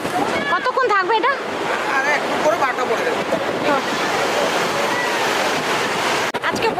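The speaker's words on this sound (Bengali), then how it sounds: "এখন জোয়ার চলছে। জল দেখো একদম পাড়ে চলে এসছে।" High-tide waves roll right up to a beach shore in a steady, loud, wind-buffeted roar of surf, while people talk over it near the microphone.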